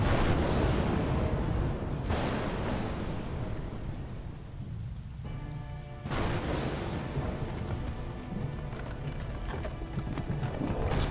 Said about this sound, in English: Those step sounds.